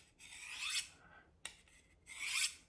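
A knife blade is drawn across a sharpening stone to refine the burr, giving two long rasping strokes with a short scrape between them, close up and with no talking.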